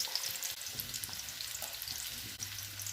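Ginger garlic paste and onions crackle and sizzle softly in about three tablespoons of hot oil, a busy steady frying hiss with faint stirring and no talk.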